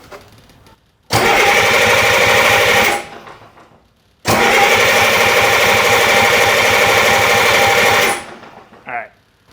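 A rebuilt Caterpillar 3306 diesel engine cranks and clatters in two loud, steady bursts of a couple of seconds each, separated by a brief pause, then winds down to quiet.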